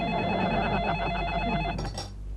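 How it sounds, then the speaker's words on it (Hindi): An electronic telephone rings with a steady warbling tone in an indoor morning setting, running for about two seconds before a brief burst of broadband noise at the end. "ओह कौन फोन करता है सुबह सुबह?"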